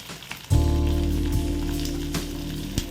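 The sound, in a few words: curry leaves, onion and garlic sizzling while sautéed in oil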